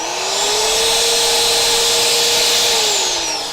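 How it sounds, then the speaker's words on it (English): A power drill runs loud and steady up close while a leaf spring perch is mounted on a crew cab Charger, its whine rising at start-up, holding, then winding down. "the drill's kind of loud"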